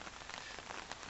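Steady rain patters on hammocks at a wild camp by Ladybower dam during Storm Frank, a soft, even hiss of drops with no voices.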